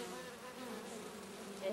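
A worker honeybee buzzes at the hive, a steady close droning hum that swells slightly near the end.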